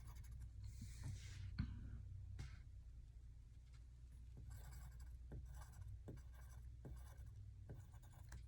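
Soft scratching of a pencil on paper while quarters are drawn, faint intermittent strokes and taps spaced through the stretch over a low steady hum, with no talking.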